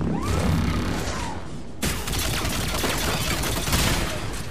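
Dense, sustained automatic turret fire in Mass Effect 3, loud and close, forming a continuous crackling barrage that briefly dips and then resumes even harder with overlapping impacts.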